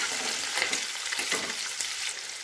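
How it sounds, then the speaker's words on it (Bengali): Chopped onion fries in a pan for a crab masala curry, a loud close sizzle with a few bursts as it is stirred, no voices. "এবারে এগুলোকে আমি একটু ভালো করে ভেজে নেব।"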